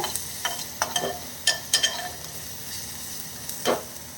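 Tomato and onion sautéing in a pan for an anchovy fish curry: a faint steady sizzle broken by sharp scraping clicks of a spoon stirring at irregular intervals, close by.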